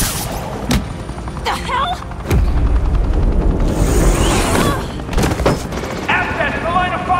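Police firing guns in the Batman Telltale video game, Enemy Within episode 5, with sharp gunshot bursts and booming impacts scattered across a loud, busy scene while a voice speaks briefly.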